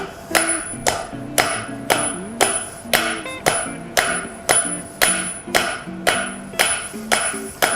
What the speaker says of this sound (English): I'm just going to start hitting it, and that's what forging is.